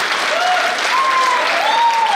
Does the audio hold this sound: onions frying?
no